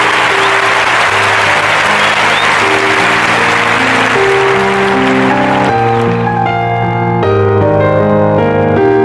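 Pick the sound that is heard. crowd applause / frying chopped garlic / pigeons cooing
crowd applause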